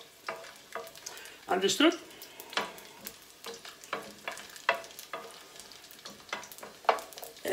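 Garlic frying in a pan on lowered heat while being stirred, with soft scraping strokes and brief sizzling bursts at close range; a voice speaks briefly.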